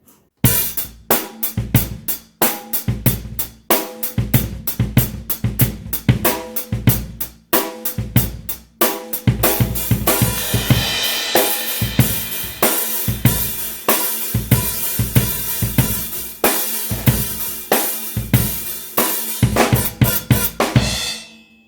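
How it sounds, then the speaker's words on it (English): A steady rock drum groove with crisp, prominent hi-hat ticks riding over kick and snare, playing alone and fairly loud without any voices. "let's say we want to put the hi-hat in the forefront of the mix"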